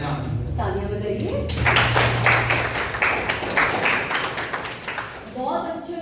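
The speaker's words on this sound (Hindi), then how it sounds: "तालियां बजाइए।" A college class applauds after a student presentation. A voice speaks first, then dense clapping swells and holds for several seconds before fading as talk resumes.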